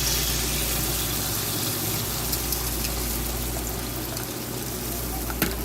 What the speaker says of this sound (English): Now you want to pour it in the center there and let it spread out.